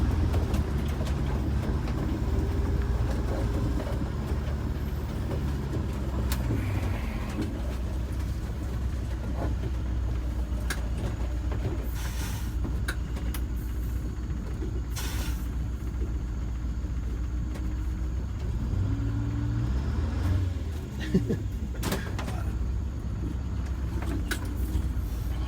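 A vintage Scenicruiser bus drives along, its engine a low continuous rumble with road noise and occasional rattles from the cabin, steady throughout.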